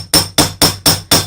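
Five loud, evenly spaced hammer blows, each a sharp metallic strike swung straight up and down on a workpiece, close by with no talking.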